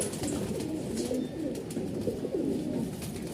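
A Punjabi Malwai Tatira pigeon coos in soft, repeated rolling phrases close by, steady and alone against quiet background hiss.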